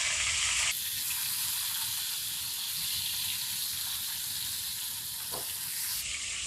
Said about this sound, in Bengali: মাছগুলো আমরা একটু হালকা ভাজা দেব, বেশি কড়া করে ভাজবো না।